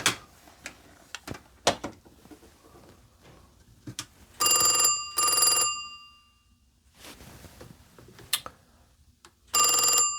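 A vintage Telstar telephone rings electronically in several short bursts separated by pauses, with a few clicks and taps between the rings.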